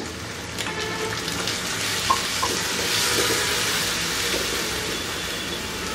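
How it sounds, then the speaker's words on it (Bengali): Beef for chilli onion cooking in a pan with a splash of water, a steady, moderate simmering sizzle with a couple of faint clicks, continuous and without speech. "আমি সামান্য একটু পানি দিয়ে আরো 2 মিনিট এটাকে একটু রান্না করে নিব"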